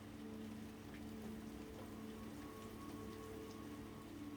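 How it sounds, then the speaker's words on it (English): Steady rain falls on surfaces outdoors, a soft continuous patter and hiss that stays even and fairly faint, with no voices. "I love how the rain's coming out right now"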